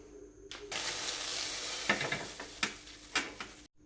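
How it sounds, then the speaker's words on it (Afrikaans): Water droplets sizzle on a very hot stainless steel pan: a steady, close hiss with sharp crackles and pops scattered through it, cut off abruptly at the end. "En jy maak hom so warm dat die waterdruppeltjie moet rondhardloop bo oor die pan."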